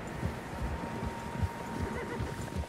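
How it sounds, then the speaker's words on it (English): Several horses in the Red Dead Redemption 2 video game whinny and neigh, with hooves clip-clopping underneath, fairly close and steady over a low ambient rumble. "Horses, quite a few of them."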